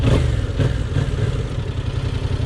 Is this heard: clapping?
no